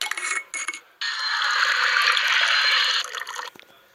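Water pours in a steady stream for about two seconds in the Toca Kitchen 2 cooking game, with short clicks before and after and no talking.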